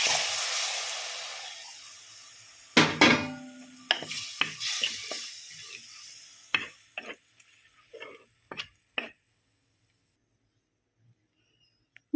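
Soaked tamarind water is poured into hot spiced masala for a salmon fish curry. A loud hissing sizzle fades over a few seconds and gives way to scattered spoon clatters against the pan before near silence.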